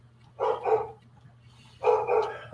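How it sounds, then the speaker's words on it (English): Dogs barking indoors in a house, two short bursts of barks about a second apart, moderately loud over a low steady hum. "I'm sorry about my dogs."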